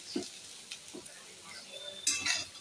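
Peanuts frying in a pan for a home lunch, heard as scattered stirring scrapes and soft sizzling, with a brighter burst of sizzle and clatter near the end; close and fairly quiet, no talk.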